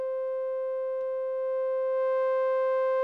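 A sustained, buzzy saw-wave synthesizer tone in Bitwig Studio held on one pitch, growing slightly brighter and louder toward the end, with no other sounds.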